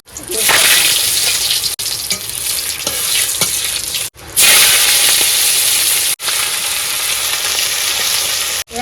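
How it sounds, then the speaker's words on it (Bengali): Fish curry sizzles loudly in a pan with cumin and chili, a steady close frying hiss broken by brief pauses as the pot is stirred, with no voices over it. "আদা বাটা লঙ্কা বাটা তরকারি ফুটে গেছে এখন মাছগুলো দিয়ে দিচ্ছি"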